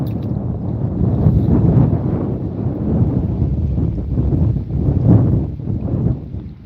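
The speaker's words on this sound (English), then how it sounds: "the wind is strong and you're having trouble hearing me" Strong wind buffets a microphone outdoors on a lake while fishing, making a steady, loud, low rumbling roar with gusty swells and no break for the whole stretch.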